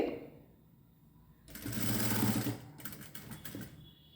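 A sewing machine stitches a simple-design blouse, quiet at first, then a rapid mechanical chatter for about two seconds that slows and stops with a few final clicks, close and alone.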